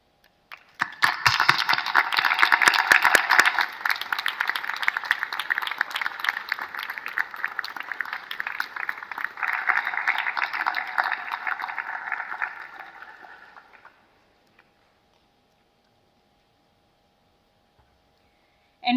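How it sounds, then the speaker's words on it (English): A large graduation ceremony audience breaks into sustained applause. The dense, even clapping swells quickly, holds steady for about twelve seconds, then tapers off into quiet. "please join me in a round of applause to acknowledge their unconditional support"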